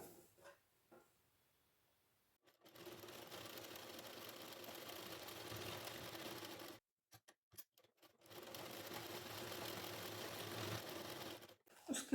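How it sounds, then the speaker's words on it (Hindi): A sewing machine stitches a blouse in two long, steady runs of even whirring, separated by brief pauses and a few short bursts, close by with no talk. "इस पे सिलाई लगा लेंगे।"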